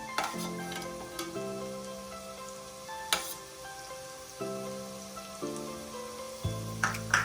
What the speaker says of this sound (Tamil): அந்த பைனாப்பிள்ஸை வந்து ஒரு 3லேருந்து 4 நிமிஷம் அளவுக்கு நல்லா குக் பண்ணிக்க போகிறோம். இந்த கீலே வந்து நல்லா ஒரு ரோஸ்ட் ஆகி வரணும்